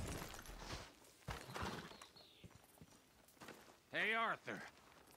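A horse in Red Dead Redemption 2 walks with soft, irregular clip-clopping hooves, then lets out a brief loud whinny near the end, while someone talks over it.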